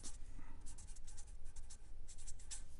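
A pen writes an address by hand on paper, quick close scratchy strokes in irregular bursts with brief pauses between them, quiet and with no voices.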